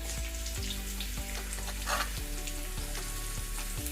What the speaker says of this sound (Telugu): ఇప్పుడు ఇందులో ఉల్లిపాయ ముక్కలు వేసుకోవాలి.